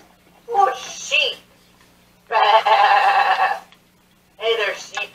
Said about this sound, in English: There are a lot of animals. Oh, sheep!